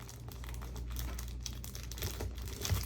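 Soft plastic card sleeves crinkle steadily as a package of them is opened beside 1990 Fleer basketball cards, a close, quiet rustling with a few louder crackles near the end.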